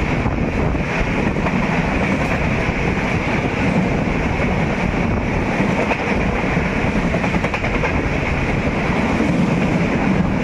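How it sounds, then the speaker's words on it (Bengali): The Rajdhani Express rushes past close to a station beside a halted local train, a loud, continuous roaring rumble of wheels and carriages with wind buffeting throughout. "রাজধানী এক্সপ্রেস পাস করলো"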